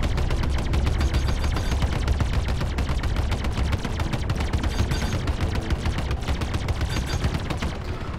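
Ship cannons on a Gladiator fighter in Star Citizen's Arena Commander fire a dense, sustained barrage of rapid, loud shots lasting the whole stretch, with no speech over it.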